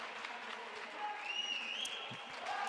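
Spectators at a Rainbow Six esports group-stage match cheer and applaud at a moderate distance, a sustained crowd roar with a faint voice over it and a few rising tones.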